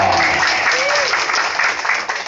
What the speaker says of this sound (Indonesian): Tepuk tangan sekali lagi yang mulia dong